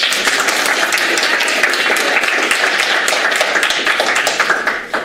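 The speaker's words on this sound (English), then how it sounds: "Let's give her a round of applause." An audience at a talk breaks into dense, steady applause, many hands clapping close and loud before it begins tapering off at the end.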